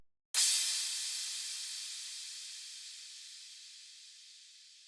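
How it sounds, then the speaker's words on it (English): A single cymbal hit with a long Supermassive reverb effect bursts in after a brief silence, then turns into a bright, hissing wash that fades slowly and evenly without dying away. "And that is going to this cymbal reverb, which I'm using Supermassive"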